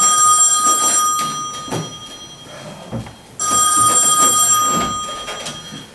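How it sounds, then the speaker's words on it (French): A telephone bell rings loudly and close in two long bursts of bright, metallic trilling, separated by a short pause with faint background sounds. "Oh, ce téléphone!"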